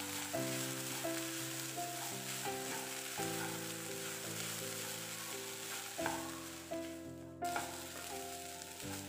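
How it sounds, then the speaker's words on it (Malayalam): Grated coconut with green chilli being stirred and fried in a pan, a steady close sizzle with scraping stirs, set against a continuous layer of sustained tonal background music. "തേങ്ങയും കൂടെ ഇതിൽ നന്നായിട്ടൊന്ന് ഇളക്കിയിട്ട് മിക്സ് ചെയ്ത് കൊടുക്കാം."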